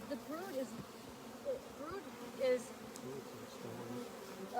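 Honey bees buzzing steadily around an open hive during a brood inspection, a continuous close insect hum with brief louder swells as bees pass near, under people talking quietly.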